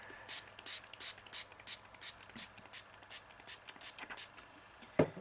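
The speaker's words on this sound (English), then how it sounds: "I just want to put a little bit of color and then spray it with water." A spray bottle spritzes water onto a watercolor painting in a steady series of short hissing bursts, about a dozen pumps in quick rhythm, close by, ending with a small knock.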